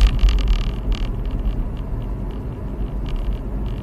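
A car being driven, heard from inside as a steady low engine rumble and road noise, fairly loud and continuous, with some faint higher rattles near the start and no talking.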